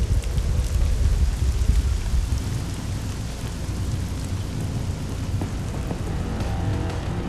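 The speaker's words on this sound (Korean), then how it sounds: "예보에도 없던 비가 내리기 시작하고 갑자기 바람까지 거쳐진 상황" Heavy rain pours onto the deck of a sand lance fishing boat in sudden wind, a loud dense hiss with deep rumbling underneath and no voices.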